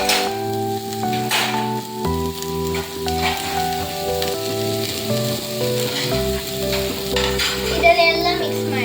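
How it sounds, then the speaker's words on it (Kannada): Capsicum, tomato and ginger garlic paste are stirred and fried in a pan for bread masala, a steady sizzle with scraping stirs, under prominent background music. "ಇದನ್ನೆಲ್ಲ ಮಿಕ್ಸ್ ಮಾಡಿ."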